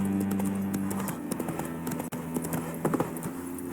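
Horse hooves clip-clop in an irregular rhythm in the video game The Witcher 3, close by, over a low steady hum and faint background clatter.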